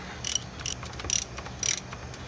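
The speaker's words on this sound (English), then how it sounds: "I gotta have the ratchet set to the correct direction." A ratchet wrench on a 13 mm idler pulley bolt of a 5.7L Hemi clicks in four short bursts of quick metallic pawl ticks, close and fairly quiet, separated by brief pauses.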